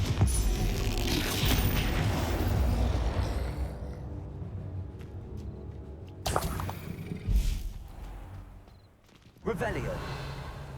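Confringo fire-spell blasts in the Hogwarts Legacy video game: a loud, dense opening barrage gives way to quieter moments, then sharp bursts strike around the middle and again near the end, with in-game voices speaking over parts of it.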